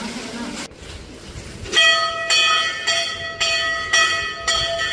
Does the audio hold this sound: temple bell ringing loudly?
yes